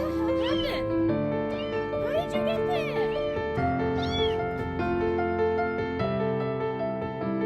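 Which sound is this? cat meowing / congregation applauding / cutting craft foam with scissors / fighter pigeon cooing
cat meowing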